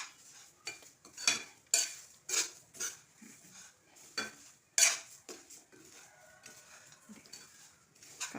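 Semolina (rava) is roasted in a pan, with a spoon scraping and knocking against the metal in repeated strokes, some loud and some soft. Almost no talk.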